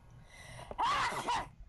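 A single sharp sneeze bursts out after a short intake of breath, close and alone, with no talking.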